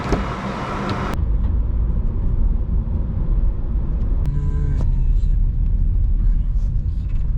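A car pulls away from a fuel station in Naples, a loud steady engine rumble and road noise close by after a brief clatter at the start, with a tonal chime partway through.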